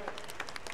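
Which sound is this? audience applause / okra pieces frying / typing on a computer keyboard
audience applause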